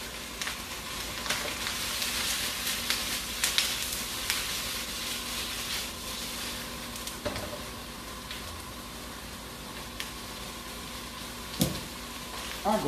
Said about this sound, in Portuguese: essa fritada aí no azeite já inicia o processo de amolecimento dos vegetais.